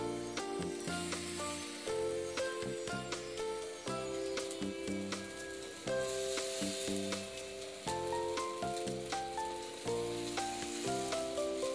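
Bread rava cutlet fries in a hot pan with a steady, crackling sizzle that runs the whole time, partly masked by loud background music.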